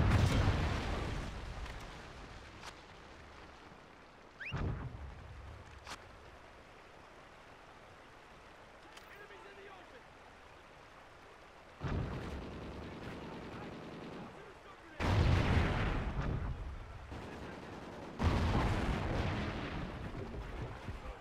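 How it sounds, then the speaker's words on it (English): Trinity rocket killstreak blasts from Call of Duty: Ghosts during a Search and Rescue match, with several loud, broad booms landing at intervals over a low background rumble of the game. "Friendly Trinity rocket inbound."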